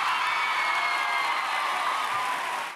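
A church audience applauds together, a dense steady wash of clapping that holds evenly and then cuts off abruptly, no talk over it.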